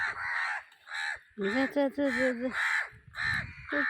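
Repeated harsh crow caws, about eight in a row at a steady pace, loud and close, with a person speaking between some calls.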